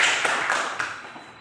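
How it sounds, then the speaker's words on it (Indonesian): Students in a class clap their hands together, a short burst of a few sharp claps in the first second that quickly fades into quiet room tone. "beri tepuk tangan untuk Tuhan"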